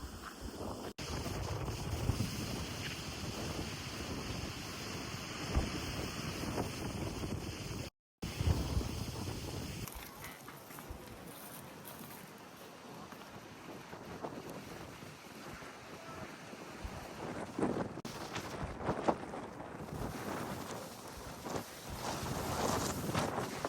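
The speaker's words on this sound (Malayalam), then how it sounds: "ഇവിടെ ചെറിയൊരു കാറ്റുണ്ട്" Wind gusting across a hilltop at Kakkadampoyil, Kozhikode, producing a steady roar and buffeting on the microphone with one brief dropout. The wind eases partway through, then rises again in stronger gusts.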